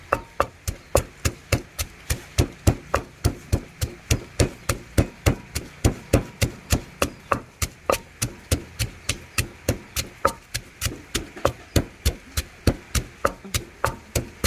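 Salt pounded in a mortar while making a Thai termite-mushroom curry: a long run of steady, evenly spaced thuds, close and fairly loud, with no talking.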